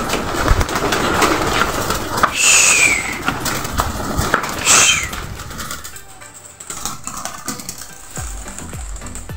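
Racing pigeons return to the loft on the final lap of a race in Claveria, Cagayan. Close, continuous wing flapping and rattling trap mechanisms sound over a busy background.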